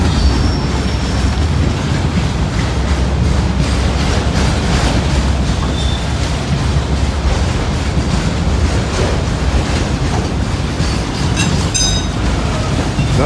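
A long CSX freight train hauled by a single EMD diesel locomotive rolls past on a rainy day with a steady, loud rumble of railcars and wheels, a few brief wheel squeals near the end.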